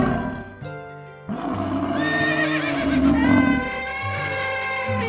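A horse neighs loudly in a long, wavering whinny that rises and trembles, close and prominent, with faint hoof clops beneath.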